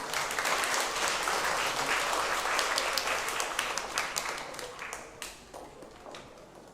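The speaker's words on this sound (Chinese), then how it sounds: "我们再次掌声" A church congregation at a Taiwanese-language Sunday service bursts into steady, dense applause that fills the room, then gradually thins and fades toward the end.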